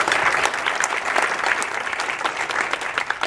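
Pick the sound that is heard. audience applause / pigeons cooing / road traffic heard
audience applause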